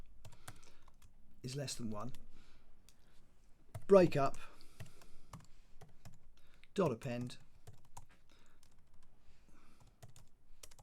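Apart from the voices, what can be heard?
typing on a computer keyboard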